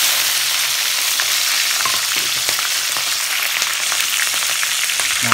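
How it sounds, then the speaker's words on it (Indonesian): Chili peppers frying in a pan of hot oil give a loud, close, continuous sizzle and crackle, with occasional stirring pops and no voices. "kemudian cabenya kita goreng."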